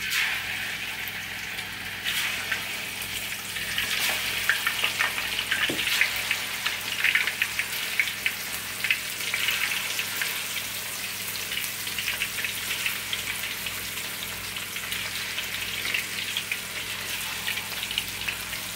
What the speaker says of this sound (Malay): Selepas itu kita goreng kita punya ikan.